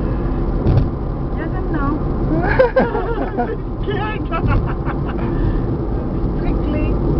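Road noise from a car driving toward the PEI bridge with its lights on, a steady low engine and tire rumble running throughout beneath loud, continuous conversation among the people inside.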